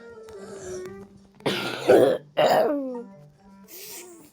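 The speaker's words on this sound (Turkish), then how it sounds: "Öksürük de bir geçmedi." Two or three harsh, throaty coughs come up close, with quieter breathing and faint sounds around them.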